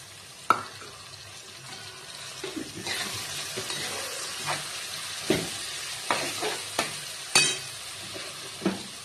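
Tomato and green chilli sizzle in a hot pan while a spoon stirs them, with steady soft frying under a series of sharp scraping clicks and knocks against the pan.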